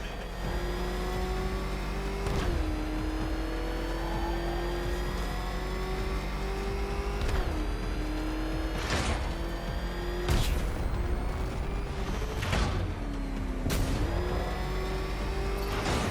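Batmobile engine from Batman Arkham Knight revving steadily through a race, a continuous droning motor whose pitch climbs and dips with each throttle change, punctuated by sharp impacts and bursts of mechanical noise.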